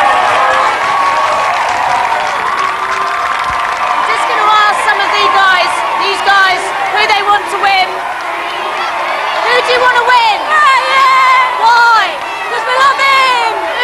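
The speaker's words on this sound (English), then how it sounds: "Dean, I'm going to take you back outside to the maddening crowd." A loud live television crowd at the Big Brother UK 2001 final cheers, whoops and screams continuously outdoors, with excited shouts and chatter layered throughout.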